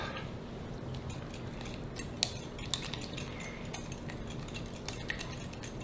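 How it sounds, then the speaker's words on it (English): Light metallic clinks and ticks of a whisk against a bowl, mixing a pinch of salt and an eighth teaspoon of cinnamon into a mixture for an apricot kuchen, close and fairly soft with scattered sharper taps. "So let's get that whisked up."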